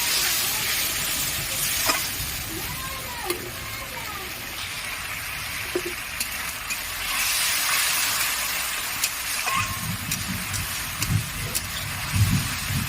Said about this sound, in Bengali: জল দিয়ে দিলাম মশলাটা ভালো করে কষিয়ে নিতে।